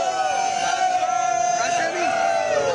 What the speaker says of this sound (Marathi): हा जल्लोष आपण बघतोय